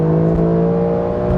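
A 2021 Porsche 911 Carrera 4S pulls at full throttle, its engine note a loud, steady, tonal drone that holds a constant pitch from close by, with no voices over it.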